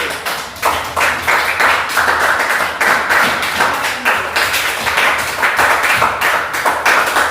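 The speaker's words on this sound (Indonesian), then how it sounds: "tepuk tangan dulu buat kelompok B" A ninth-grade junior high classroom claps for a student group: close, loud, rapid hand claps from a handful of students, uneven and slightly rhythmic, continuing steadily for several seconds with no talking.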